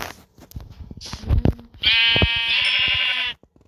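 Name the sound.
sheep bleating in a video game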